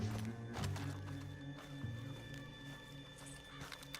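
Horses in the Red Dead Redemption 2 video game whinny and neigh, with hoof clip-clops and shuffling over a low rumbling backdrop, moderately close and fairly quiet.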